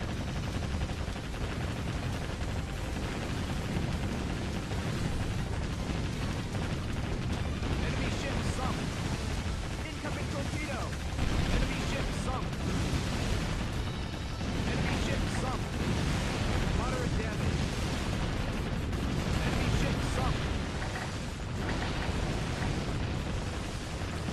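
Continuous naval gunfire and explosions from the warship combat game Warship Gunner 2 roar without a break, a dense, loud barrage of booms and blasts layered into a constant thunderous wall of noise.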